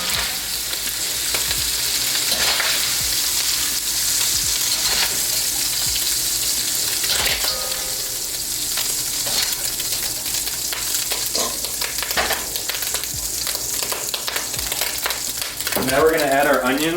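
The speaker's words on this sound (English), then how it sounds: "So now that the sausage is mostly done, we're going to take it out of the pan." Sausage browns in a pan for a slow-simmered Bolognese, giving a loud, continuous frying hiss with scattered pops and crackles close to the listener.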